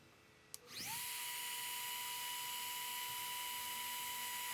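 A rotary tool fitted with a 1mm bit spins up with a sharp click and then holds a steady high-pitched whine while routing wood for a guitar body, close and continuous.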